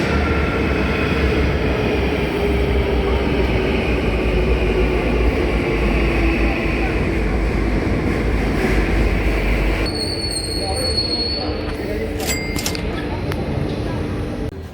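An Istanbul metro train runs underwater toward Yenikapi with a loud, steady rumble of wheels and carriage, heard from inside. Near the end the wheels squeal in a high, thin tone and sharp clanks break through.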